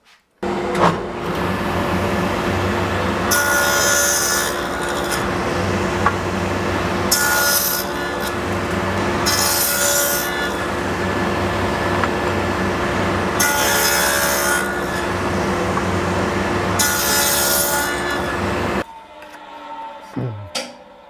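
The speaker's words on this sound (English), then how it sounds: "So a dado blade made up of a whole bunch of blades." A dado blade stack on a saw cuts into wood in a wooden block shop, loud rasping bursts recurring irregularly over a constant motor hum, ending with the machine spinning down.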